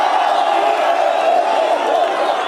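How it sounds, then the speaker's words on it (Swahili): A rally crowd cheers and claps in a dense, continuous roar, loud and sustained throughout with no break. "Mpigeni makofi."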